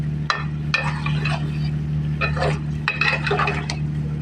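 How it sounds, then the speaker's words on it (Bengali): Potato pieces go into a pot of mutton curry with a few sharp clinks and knocks against the metal, over a steady low hum of the simmering pot and burner. "আলুটা দিয়ে দিলাম"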